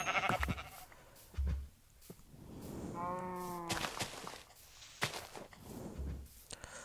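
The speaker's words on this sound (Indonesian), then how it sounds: "di sana juga gua lihat domba" A Minecraft sheep lets out a clear, wavering bleat near the middle, among scattered footsteps and blocky game thuds; no one speaks.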